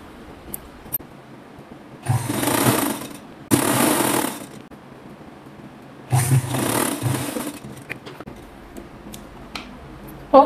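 Sewing machine stitching a folded seam on a flared dress, heard in three short bursts of mechanical whirring separated by pauses, close and fairly loud with no talking.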